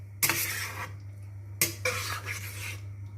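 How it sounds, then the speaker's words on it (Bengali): Metal spoon scrapes and clinks against a pan while chili chicken gravy thickened with cornflour water gets stirred, two bursts of scraping with a steady low hum beneath. "এবার ভালো করে মিশিয়ে নিয়ে আরও 3-4 মিনিট মতো ফুটিয়ে নেব।"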